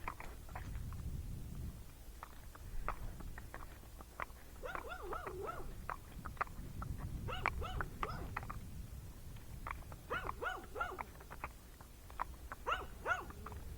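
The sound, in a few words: dog barking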